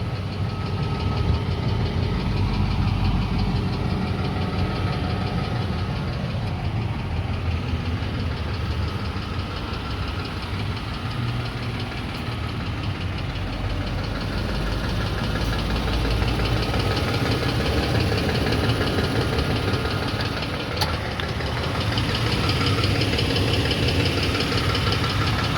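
A 2005 Ford F150 King Ranch pickup engine idles steadily with a rough, uneven note and the ticking puff of an exhaust leak, loud and close throughout with no talk.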